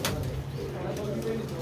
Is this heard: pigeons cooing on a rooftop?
yes